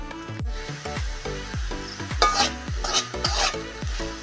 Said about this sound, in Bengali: তবে আমি সবজিগুলো সব ভেজে নিব আগে